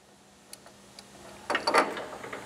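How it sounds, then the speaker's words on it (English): A bolt is run down on the homing bracket of an XR6 rotary pipe cutter, heard as a few faint ticks followed by a louder burst of quick ratcheting metal clicks near the end. "Got to run a bolt back down."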